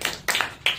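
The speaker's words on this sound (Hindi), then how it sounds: "स्वागत है आपका, जोरदार ताली बजाइए।" A few sharp, separate claps ring out close by in short bursts at a Sunday church service, welcoming a couple as guests. The clapping is loud and sparse, not a full crowd.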